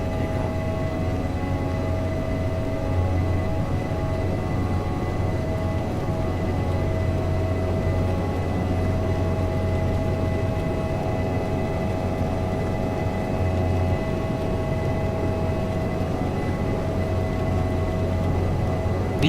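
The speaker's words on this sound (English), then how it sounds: "Hope we have enough runway for takeoff." Simulated Airbus A320 jet engines hum in Microsoft Flight Simulator X as the plane waits on the runway before takeoff. The drone stays steady and even throughout, with tonal whines over a low rumble and no voices.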